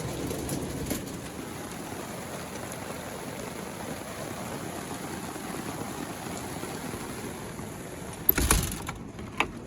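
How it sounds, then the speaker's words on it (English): Hail falls in a dense, steady patter across the whole stretch, with a sharper, louder burst of impacts near the end. "Now it's hailing."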